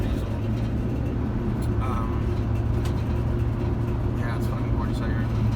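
A chipped turbo diesel van drives along a Colorado road, its steady low engine drone and road rumble continuous throughout, with a person talking over it.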